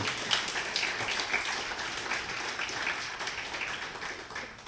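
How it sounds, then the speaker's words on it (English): Sustained applause from a conference closing-ceremony audience, dense clapping that stays fairly even throughout and tapers slightly at the end. "Round of applause for this guy"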